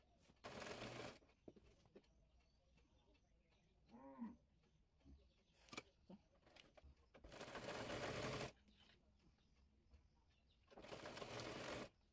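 A sewing machine stitches folded piping cloth for a baby frock's umbrella-cut butterfly sleeves, whirring in three loud bursts separated by quieter pauses with faint handling sounds.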